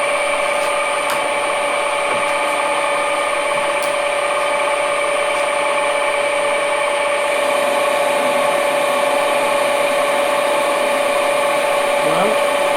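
A metal lathe takes a 1 mm cut off the diameter of a workpiece, holding a steady loud whine with strong tonal hum throughout, continuous and close.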